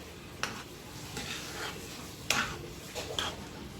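A spoon scrapes and stirs through thick spinach dal khichdi in a pot, with several soft, irregular strokes close by and no talking.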